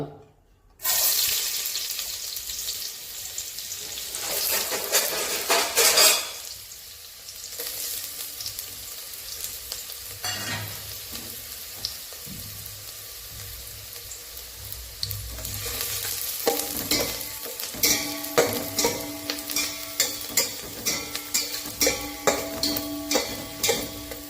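Chopped onion hitting hot oil in a heated pot for Kolhapuri chicken: a loud continuous sizzle and crackle that fades slightly, then swells again with busy popping and stirring.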